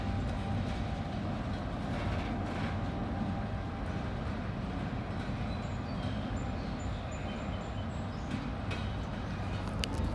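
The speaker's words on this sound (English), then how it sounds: "that was a little short train" A short train rolls past on the Indiana & Ohio Railway spur, a continuous low rumble of wheels and engine at steady volume, with faint squeals and clatter on top and no voices.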